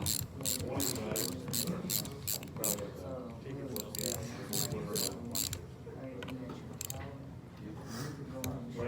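A ratchet clicks in quick, repeated bursts as it loosens a 6mm bolt on a car starter motor, with pauses between strokes and a voice talking quietly underneath.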